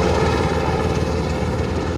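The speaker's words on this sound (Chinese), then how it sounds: "黑鹰直升机在花莲七星潭上空来回搜索" A Black Hawk helicopter flies over Chixingtan, Hualien during a search for a missing F-16, a steady loud rotor and engine drone with no voices.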